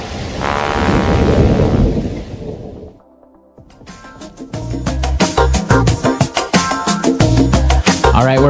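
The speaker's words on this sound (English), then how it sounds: "Oh no, it's raining!" Rain pours steadily under rolling thunder, then the sound dips briefly before a run of loud, sharp crackling thunder claps breaks in close and heavy through to the end.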